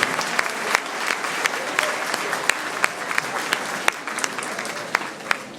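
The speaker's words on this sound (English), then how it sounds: "Friends, please give a very special applause to" An audience at a school reunion gathering claps in sustained applause, dense and fairly close, with scattered louder individual claps throughout.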